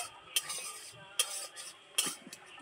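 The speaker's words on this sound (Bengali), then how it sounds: "এইভাবে নেড়েচেড়ে একটু তাপটাকে সরিয়ে দিতে হবে" Roasted wheat flour being stirred in a pan, a quiet scraping broken by three sharp clinks of the spoon against the metal, heard up close with no one talking.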